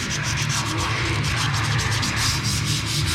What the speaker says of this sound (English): my hand sanding process here. We got 80 grit sandpaper.